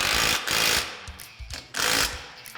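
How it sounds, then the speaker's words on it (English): Hardware on a hood rack bracket for a Polaris Ranger 1000 is tightened with a power tool, three loud close rattling bursts of impact driving separated by short pauses, no voices. "Now we're going to go through and fully tighten all our hardware."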